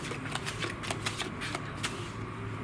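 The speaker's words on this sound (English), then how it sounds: "I'm going to deliver some cards again" Cards dealt at a blackjack table for free bet blackjack with push 22 side bets, a run of crisp, sharp snaps and flicks arriving at an uneven rhythm over steady low room hum, close and fairly quiet.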